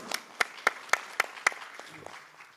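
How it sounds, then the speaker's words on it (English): Short burst of applause from a conference audience, a handful of distinct sharp claps standing out over a light patter that quickly fades away. "One round of applause, please."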